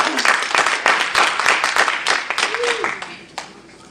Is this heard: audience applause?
yes